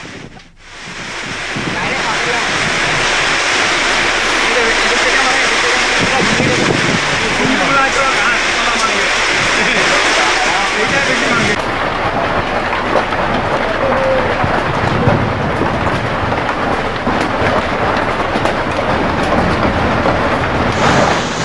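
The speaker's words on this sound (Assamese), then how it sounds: "উৎকট গৰমৰ মাজতে ঠায়ে ঠায়ে আৰম্ভ হৈছে ধুমুহা বৰষুণ" A dense, roaring wash of heavy rain and gusting wind fills the whole stretch, loud and unbroken, shifting slightly partway through.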